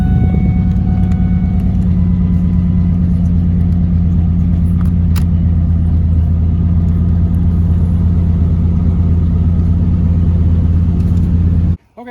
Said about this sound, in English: So I'm going to go ahead and start the truck.